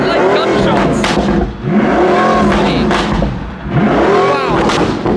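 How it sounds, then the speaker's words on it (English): Loud Pagani Imola exhaust crackling and popping with sharp gunshot-like backfire bangs, engine note rising and falling in waves; a voice speaks faintly underneath. "it backfires and makes those incredible bangs"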